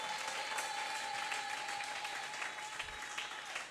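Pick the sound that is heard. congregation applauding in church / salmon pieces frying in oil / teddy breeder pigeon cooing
congregation applauding in church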